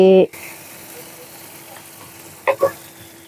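Spice masala frying in oil until the oil separates, a soft steady sizzle after a brief sound at the start, with two short clatters of stirring near the end.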